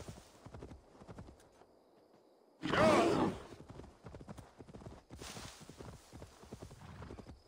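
Horse hooves clip-clopping during riding in the Assassin's Creed Valhalla video game, a light rhythmic patter broken by a loud burst of game noise midway, with faint background game sounds.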